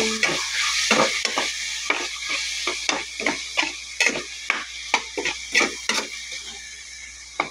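Close, rhythmic scrape-and-tap of a spoon stirring binagoongan in a frying pan while tomatoes are crushed, with a steady sizzle underneath and a dozen or so sharp clinks against the metal.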